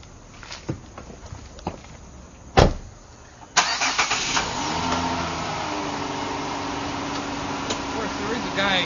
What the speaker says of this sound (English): I'm going to pull out onto the street, and I'm going to hit the gas, and there will be a squeal